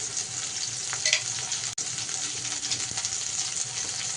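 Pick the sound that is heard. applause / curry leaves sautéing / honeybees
curry leaves sautéing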